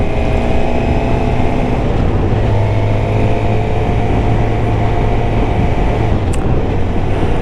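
A motorcycle engine drones loud and steady while riding on a warm evening, a continuous close-up rumble with wind noise and no breaks.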